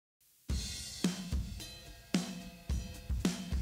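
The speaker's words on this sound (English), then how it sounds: "I also have a drum compressor for all the drums, the whole drum kit. Sounds like this." A full drum kit run through heavily squashed parallel compression blended in lightly, playing a steady groove of loud kick and snare hits with crashing cymbal wash, close and punchy, with no talk.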